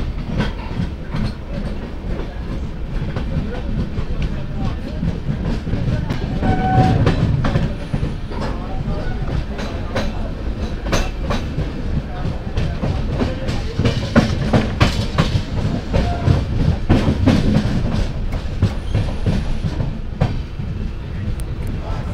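Mangla Lakshadweep Express train runs along the Konkan Railway between Ratnagiri and Madgaon, a loud continuous rumble with rhythmic clickety-clack of wheels on rail joints heard from inside the carriage.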